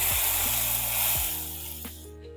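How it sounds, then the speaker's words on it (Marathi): A tadka of coriander seeds, fenugreek and curry leaves sizzling for kadhi with gole: a fairly loud, bright hiss that fades away after about two seconds. "धने, मेथ्या आणि कढीपत्ता असा मी थोडासा तडका देणार आहे."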